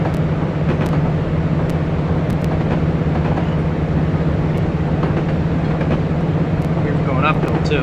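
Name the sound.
train running at full throttle in Train Simulator 2020 video game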